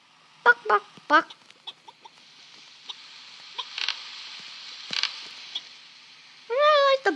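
Chicken clucks from the Crossy Road video game, a few short sharp clucks early on, sparse pecking clicks, then a longer warbling squawk at the end, all fairly close with no talking.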